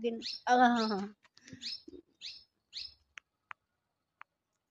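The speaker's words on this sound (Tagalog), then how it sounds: "A bird. Sounds of the nature. Water and the bird and the wind." Short bird chirps sound outdoors after a voice and a few soft knocks, followed by a handful of sharp, separate tweets with gaps between them, set among nature sounds of water and wind.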